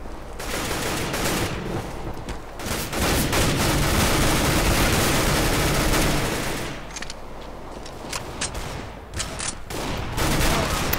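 Gunfire in the video game Counter-Strike: Global Offensive, a dense, loud stretch of automatic shooting and battle noise that keeps going throughout, thinning briefly in places before picking up again.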